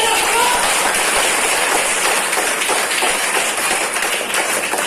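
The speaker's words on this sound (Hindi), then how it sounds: "जब हाथ खड़ा हो गया एक बार जोरदार ताली बजा दीजिए।" Loud, dense clapping from a large seminar audience at a business meeting, a steady wash of many hands filling the whole stretch with no voice on top.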